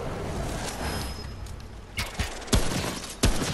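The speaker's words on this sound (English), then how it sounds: "Get my hunting rifle out." Rifle shots from a hunting rifle ring out in the video game Remnant: From the Ashes, with a few sharp cracks over a busy game background.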